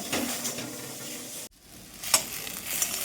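Potatoes sizzle and crackle steadily in a frying pan, broken by a scrape of stirring and a brief pause, then more frying with a couple of sharp metallic clinks from the utensil against the pan.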